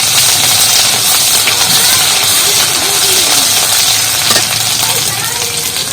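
Grated garlic dropped into hot oil for fish chops gives a steady, loud sizzle and hiss that runs the full length, with faint background hum and no speech.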